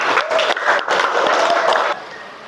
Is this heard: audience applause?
yes